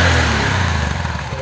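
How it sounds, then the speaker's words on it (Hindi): A 2022 Honda SP125 125cc motorcycle exhaust rumbles steadily up close, a low throbbing engine note that dips slightly in pitch and loudness as it goes. "एग्जॉस्ट का जो साउंड है वो बहुत बढ़िया है और बहुत अच्छा आ रहा है"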